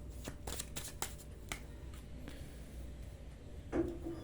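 Tarot cards shuffled and drawn by hand, a run of soft, quick papery riffles and slaps, close and quiet, with a slightly louder flick near the end and no talking.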